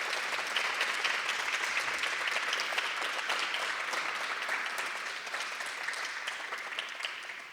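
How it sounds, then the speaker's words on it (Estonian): Audience applause at the opening of a tourism fair in Hiiumaa, a full, steady wash of clapping that holds evenly and tapers slightly at the end. "Aplaus!"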